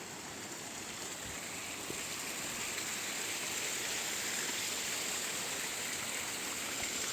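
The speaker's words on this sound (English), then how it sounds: "Sounds like a waterfall, which actually goes into the rocks mainly." A waterfall cascades into rocks beside the Appalachian Trail, a constant, broad rushing of water heard from nearby, steady and unbroken, with no talk.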